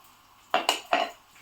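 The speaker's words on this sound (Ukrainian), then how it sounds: "беремо часник і здушуємо його в величеньку миску" Garlic is pressed into a large bowl, giving three quick metallic clinks and scrapes of a press against the bowl in a quiet kitchen.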